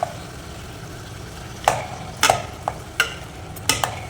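Boiled mutton being stirred and mixed in oil in a pan: a run of short scraping and sizzling strokes, a handful of separate bursts over a soft frying hiss, close and fairly quiet.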